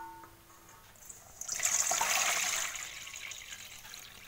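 Slightly warm water poured from a container into a bowl of salt, ahead of mixing rice flour batter for sora pithe in a non-stick pan; a short, moderately loud splashing pour that swells and then tapers.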